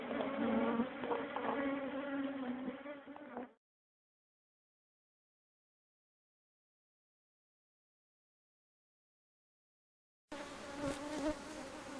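Honey bees at a beehive buzz in a dense, steady swarm drone, heard close for a few seconds, dropping to silence, then returning just as loud near the end.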